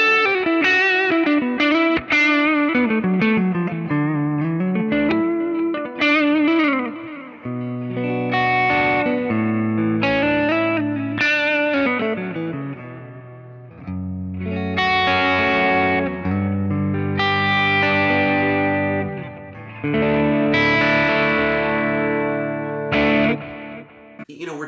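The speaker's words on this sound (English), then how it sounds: "for a neck humbucker, this is going to sound quite sort of American clean" Electric guitar played through the neck humbucker into a Kemper profiler, set to a bright American-style clean tone with the mids pulled back: a run of chords and single-note lines, steady and close, with a little chorus and reverb shimmer and no talking.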